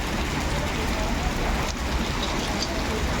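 Steady, dense rain hisses continuously close by in Nagpur, a broad wash of noise with no pauses, and occasional faint drips standing out.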